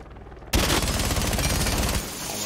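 Loud sustained automatic gunfire from a PC shooter game played with a controller, a rapid continuous burst that cuts off after about two seconds, leaving lower game ambience behind.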